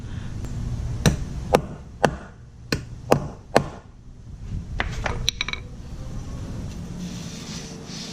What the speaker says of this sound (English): by the time I pound it down